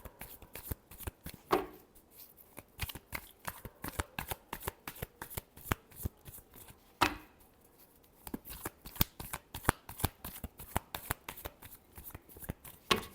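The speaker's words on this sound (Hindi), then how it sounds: "Last shuffle." Tarot cards being shuffled by hand, close and crisp, in rapid riffling bursts with brief pauses between rounds, with no talking.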